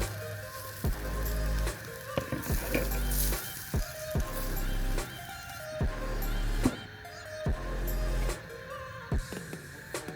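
Meat sizzles on a barbecue grill at a country club resort in Gazipur, a steady frying hiss broken by repeated scraping and stirring of tools against the grill.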